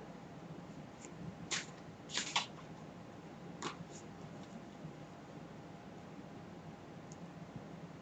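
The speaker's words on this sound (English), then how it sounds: "I'm just going to take a moment here to shuffle the cards" Oracle cards being shuffled by hand, a few brief soft riffling bursts close by over a steady quiet hiss, then mostly stillness.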